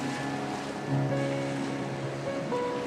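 Ocean waves wash steadily onto a sandy beach at Langkawi, a soft continuous surf with gentle swells, heard alone without voices.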